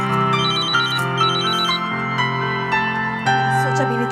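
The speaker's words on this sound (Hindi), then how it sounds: "लगता है इनका फोन है" A phone rings in a Hindi TV drama scene, its short repeated electronic trill sounding in two bursts over steady background music.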